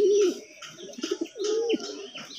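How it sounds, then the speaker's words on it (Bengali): A pair of red pigeons in a cage cooing up close, several throaty rolling coos repeating in a loose rhythm, with light chirpy overtones and no voices over them. "আবারও ডাক পারতেছে। মানে অসাধারণ একটা জোড়া লাল কবুতর।"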